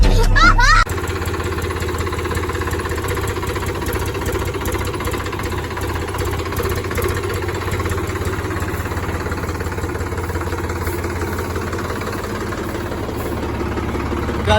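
Tractor engine running steadily during wheat threshing on a farm, a loud continuous diesel chug with a knocking rumble, with voices faintly audible under the machinery noise.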